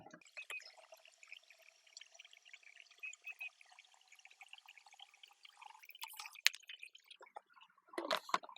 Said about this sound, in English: I'm gonna add in 2 gallons of water and mix them well together.